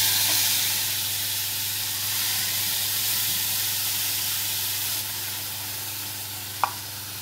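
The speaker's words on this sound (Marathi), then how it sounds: "आधी वाटण टाकून घेऊया. तेल तापायला ठेवलेलं आहे." Ground masala paste for a sprouted moth bean curry hits very hot oil, producing a continuous soft sizzle and crackling hiss, close and even, with one sharp clink of a utensil near the end.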